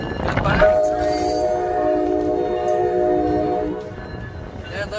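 A train passes near a parking spot in New York City. A loud horn blast holds steady for about three seconds over rolling rail noise, then fades out.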